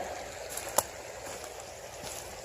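A flooded creek flowing on a hike, a continuous, fairly faint hiss of rushing water with a single sharp click near the start.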